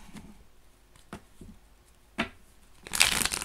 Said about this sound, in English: Give these a bit of a shuffle.